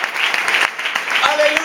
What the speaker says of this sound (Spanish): Denle un fuerte aplauso al Señor, por favor